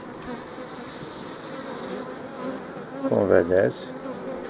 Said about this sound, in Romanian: Iată încă o ramă de pe care ecluzionează albina.